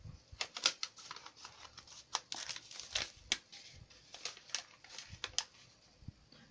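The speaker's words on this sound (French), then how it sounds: "je vais couper avec les ciseaux." Close, crisp snips and crinkling as scissors cut open beauty product packaging, coming in irregular bursts through plastic or paper.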